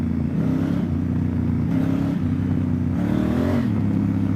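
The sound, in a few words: 2017 Honda Africa Twin motorcycle riding off-road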